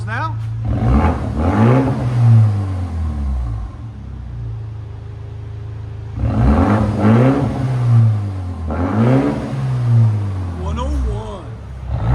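A 2024 BMW X1 M35i 2.0L turbo with an opened exhaust revs in two strong, rising bursts separated by a steady idle, loud and close, with people talking throughout.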